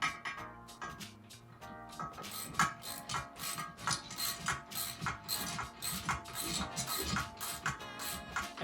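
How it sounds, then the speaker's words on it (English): A socket ratchet tightens a nut with a 9/16 socket, giving rapid, dense clicking that runs close and steady under layered mechanical clatter. "I like to use the socket here."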